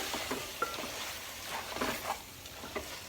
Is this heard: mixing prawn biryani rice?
yes